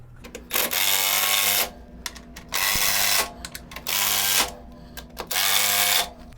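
A power tool runs in four bursts of a second or so each, whirring loudly and close with short pauses between, as bolts are driven down on a winch mount for a Polaris RZR side-by-side.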